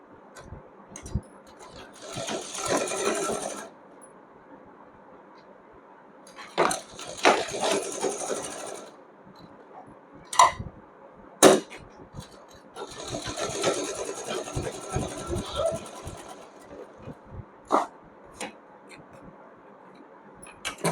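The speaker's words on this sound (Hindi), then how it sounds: "इस तरीके से इसके ऊपर ओवरलैप करते हुए हल्का सा मैं यहाँ पर सिलाई लगा दूँगी" A sewing machine stitches cloth for a small Laddu Gopal nappy-style dress, running in several bursts of rapid whirring separated by pauses with light clicks and handling noises.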